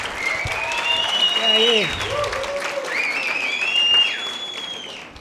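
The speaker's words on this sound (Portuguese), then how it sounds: "Palmas pro Saulo, gente, palmas." Stand-up comedy audience applauding as a comedian takes the stage, a steady wash of clapping under loud whoops and cheers, with a voice speaking briefly over it.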